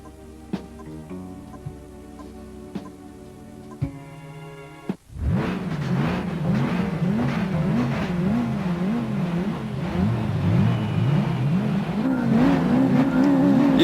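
Volkswagen Lupo fitted with a turbo kit and nitro tank racing in Gran Turismo 4, its engine droning loudly and rising and falling in pitch through gear changes after a sudden start, with no talk over it.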